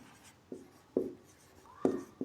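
Pen strokes of someone writing physics notes, several short scratchy bursts close by, spaced unevenly with quiet gaps between them.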